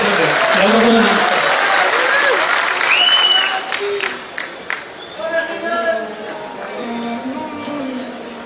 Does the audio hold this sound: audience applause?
yes